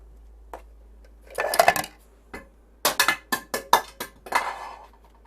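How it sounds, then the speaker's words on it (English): A lid drops in a kitchen and clatters among pots and pans, first in a brief metallic jumble, then in a quick run of sharp clinks and rattles close by, with no talking. "drop the lid."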